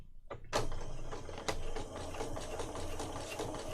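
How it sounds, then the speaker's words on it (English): Sewing machine stitching a pocket onto a junk journal page: a steady mechanical whirring rattle after a couple of sharp clicks at the start, close and fairly quiet, with a few knocks along the way. "I'm sewing my pocket on"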